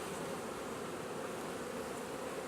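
Honey bees buzz around an open beehive, a dense, steady swarm drone filling the whole stretch at close range with no voices.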